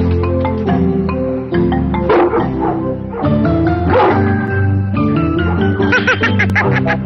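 A dog barks and yips repeatedly at close range in loud, uneven bursts, sometimes rising into whiny, whimpering tones, while a person shouts nearby.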